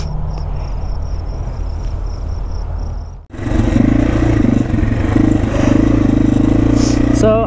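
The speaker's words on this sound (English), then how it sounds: "So I'm riding a 2014 Yamaha TW200" A 2014 Yamaha TW200 motorcycle rides along, its engine droning steadily and close after a quiet stretch of insect chirping outdoors, with no talking.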